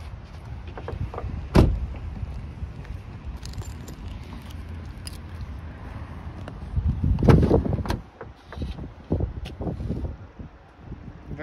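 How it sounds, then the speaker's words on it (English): The power seat motor of a 2007 Volvo C70 hardtop convertible whirs as the seat moves back, a brief close mechanical hum with small clicks and cabin rustle around it. "push the button and the seat goes back again"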